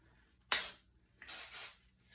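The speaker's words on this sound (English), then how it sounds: "I will take my volume spray and just" Volume hairspray is sprayed onto the underside of curled hair in two close, crisp hissing bursts, a longer one followed by a shorter one, with a brief start of a third, heard alone and near.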